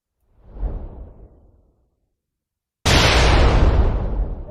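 A game gunshot effect: a muffled thump that fades out, then after a short silence a loud, sharp bang with a sustained roaring tail.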